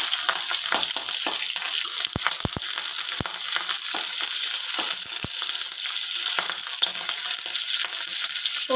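Black cumin and green chilli tempering hit hot oil for a ridge gourd curry, giving a loud, steady sizzle close by, broken by sharp crackles and pops.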